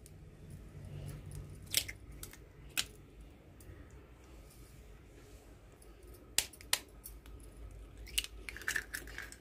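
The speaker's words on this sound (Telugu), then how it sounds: "ఇప్పుడు గుడ్లు కొట్టుకొని వేసుకుందాము." Eggs cracked one after another for an onion omelette, six in all, with sharp isolated clicks and taps against a bowl rim spread across a quiet kitchen background, fairly faint and with no talking.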